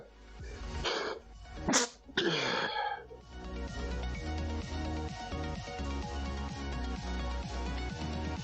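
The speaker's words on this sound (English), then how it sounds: "well-timed sneeze there" A short, sharp sneeze bursts out with a breathy lead-in, followed by a steady hum of background noise.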